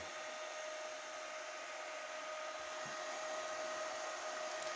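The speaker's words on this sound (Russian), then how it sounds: "Вентилятор дует, ну, хоть и маленький, но вы знаете, он дует хорошо." A small cooling fan on a UIS 160 impact rotary tool blows with a steady, even whirring hiss and a faint constant tone, close and continuous throughout with no voices.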